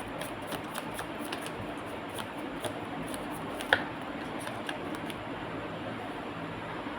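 Tarot cards, sticking together in humid weather, are shuffled and dealt one by one: faint soft flicks and riffles over a steady hiss, with one sharper snap near the middle.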